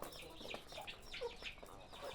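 Hens of a show or ornamental breed clucking softly on a farm, several short scattered calls spread through the moment, fairly quiet and close, with no talking.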